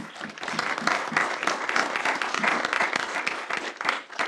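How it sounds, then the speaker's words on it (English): A room of school board meeting attendees gives a sustained round of applause for spring student athletes, steady dense clapping from many hands lasting several seconds. "So can we give them all another round of applause?"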